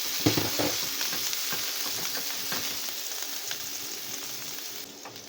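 Garlic sautés in a hot pan with a steady close sizzle and scattered pops and crackles, starting a stew of beef, fried potatoes and carrots; no one speaks.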